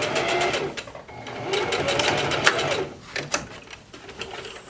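A sewing machine stitches closed a small hole in the elastic waistband of a gathered skirt, running in close, rapid mechanical bursts with short stops and clicks between them.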